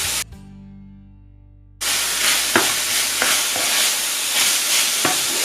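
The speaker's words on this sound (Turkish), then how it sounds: "Soğanlar düşene kadar tekrar kavuruyorum." Minced meat with chopped onion and crushed garlic being fried and stirred in a pan: a humming tone first, then a loud, steady sizzle with a few sharp scrapes of the spoon.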